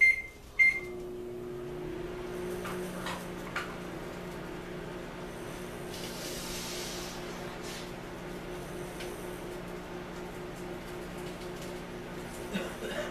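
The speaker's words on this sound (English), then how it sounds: "That is the microwave, so you guys know." Microwave oven humming steadily indoors for over ten seconds, with a continuous low drone and a couple of short beeps at the very start, faint and mid-distance.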